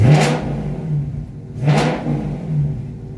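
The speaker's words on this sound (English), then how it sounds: "I got the mid muffler delete, and it's pretty loud" A 2018 Dodge Charger Scat Pack with a mid muffler delete revs twice in loud, throaty bursts, each rising and falling, heard close from inside the car.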